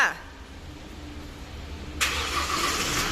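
A Chevrolet Colorado pickup's engine cranks and catches near the end, giving a sudden broadband roar that settles into a steady idle after a quieter stretch of low rumble.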